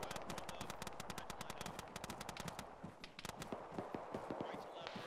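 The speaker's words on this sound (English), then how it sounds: "Just got AK fire west." AK rifle fire crackles in an Arma military video game, rapid repeated shots in dense bursts, some near and some more distant, with people talking over the gunfire.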